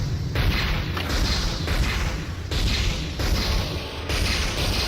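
Warship turret guns firing in the space-combat game FreeSpace 2, a dense, steady barrage of booming low blasts that rumbles continuously with little break, loud and close, with no voices.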